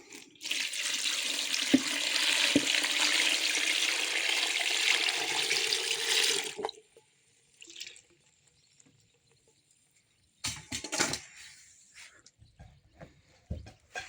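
Brine poured from a container into a jar of tomatoes being fermented with dill, a close liquid splashing and gurgling that lasts several seconds and then stops, followed by a few faint clinks and soft handling noises.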